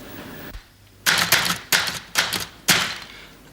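Typewriter keys being struck in several loud, separate clusters of clacks, roughly five bursts in a row after a quiet start, with no voices.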